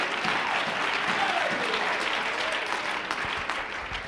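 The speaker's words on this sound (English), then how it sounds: "We ought to really be able to clap our hands and thank God we're in the church tonight." Church congregation clapping their hands during an evening service, dense sustained applause from a crowd filling the room, fairly loud and continuous throughout.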